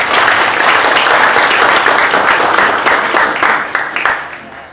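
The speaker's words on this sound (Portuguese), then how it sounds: "Uma salva de palmas." An audience at an academic event applauds to welcome a professor invited on stage, loud sustained clapping filling the room before tapering off at the close.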